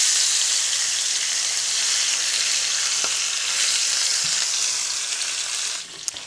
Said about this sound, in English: Then I'm gonna go ahead and flip it on the other side.